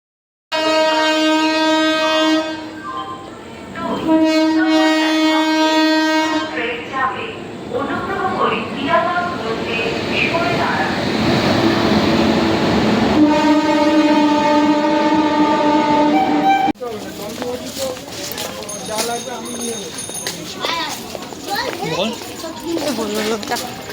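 A train rolls past with its horn sounding in several long, loud blasts over continuous rumbling wheel noise, while children and other people talk and shout nearby throughout.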